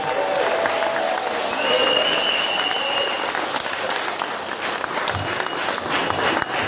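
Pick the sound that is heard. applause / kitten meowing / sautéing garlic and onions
applause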